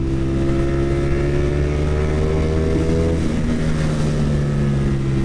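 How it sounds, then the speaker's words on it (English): A liter-class motorcycle engine pulls hard under throttle, its steady loud drone rising in pitch, then dropping briefly as it shifts and climbing again, heard close with no talking. "just kind of leaning on the throttle, you get to pick up a ton of speed"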